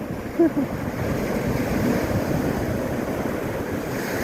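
Ocean surf breaks on the shore at Phayun Beach in Ban Chang, Rayong, Thailand. A steady, continuous wash of waves rolls on, mixed with gusty wind buffeting the microphone, and no voices are heard.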